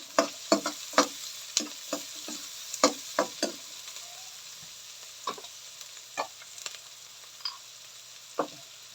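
Cabbage and carrots being stir-fried in a pan: repeated sharp scraping stirs and crackling sizzle, close and fairly quiet, with no talking.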